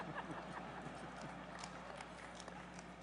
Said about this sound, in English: they're polo horses.